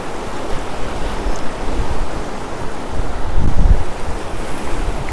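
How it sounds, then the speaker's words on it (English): Waves of Lake Michigan slap against a pier amid steady, loud wind buffeting the microphone, with a continuous roar of surf and a heavier surge near the end. "You can see where the waves have been slapping up onto the pier."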